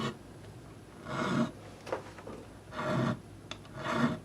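A rounded-edge tool is dragged along the edge of a guitar fretboard in a few short, close rasping strokes separated by brief pauses.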